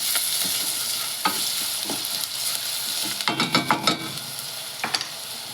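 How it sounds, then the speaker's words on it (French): A spoon stirs sugar into a sizzling sauce in a pan, the sauce later joined by soy sauce and mirin. Scraping strokes come in a quick cluster of several near, distinct scrapes over a constant, close frying hiss. "On va rajouter le sucre. On va bien mélanger."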